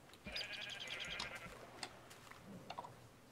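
Sheep bleat in the Tekkit Minecraft video game, several short game-style bleats repeating over a steady background hum, fairly clear and close, with no talking.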